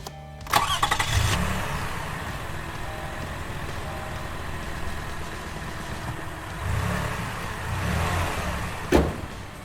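A car engine cranks briefly and catches after a fuse replacement, then settles into a low, fairly quiet idle with a few small swells and a sharp click near the end.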